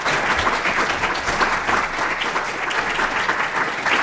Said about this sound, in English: If we could give our panel a round of applause.